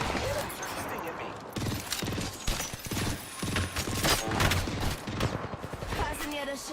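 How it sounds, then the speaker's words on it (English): Enemy gunfire in a video game, dense rapid shots and bursts rattling continuously at close range, with voices talking over the shooting throughout. "Enemies are shooting at me."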